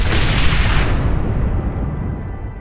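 Explosions from planted charges in the Red Dead Redemption video game, a loud sustained roar of blasts and rumbling debris that slowly fades, with no one speaking.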